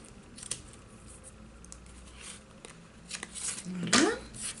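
Scissors snipping off excess card paper during a card-making craft, several short, faint crisp cuts spread across a few seconds, with a louder snip near the end amid quiet room noise.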